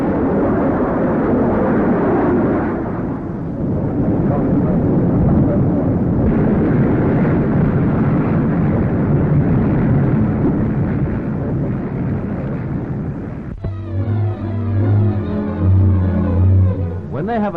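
A jet aircraft with two enclosed jet turbines roars loudly and steadily overhead, a broad sustained rumble that shifts in tone near the end, with no voices over it.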